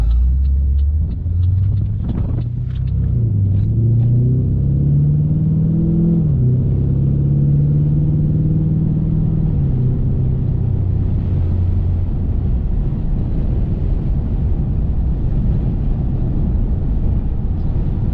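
A Pontiac G8 GT drives along, its engine a loud, close rumble that climbs in pitch through the gears and then settles into a steady cruising drone.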